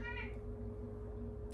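A cat gives a short, faint meow at the start over a steady low household hum, quiet and somewhat distant.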